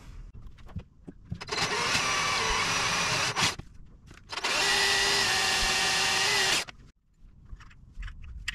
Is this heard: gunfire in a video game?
no